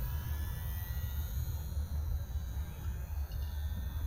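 A Radian RC airplane's electric motor hums in flight as the throttle rises slightly, a steady whirring drone with faint wind noise, fairly distant and unbroken, no talking.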